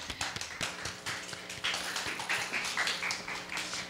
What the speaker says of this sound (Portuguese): Palmas, palmas, pessoal do estúdio,